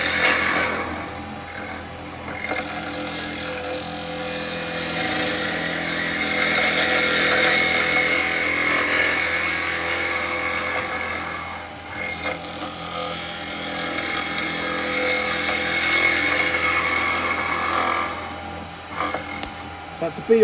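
A one-inch gouge cuts a small live-edge ash bowl spinning on a wood lathe, giving a sustained hissing, scraping shear that swells and eases in long passes, close by, with someone talking over it.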